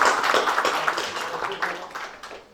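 Applause for a chairman at a cooperative general meeting, scattered hand claps from a modest crowd in a room, moderately loud and fading toward the end.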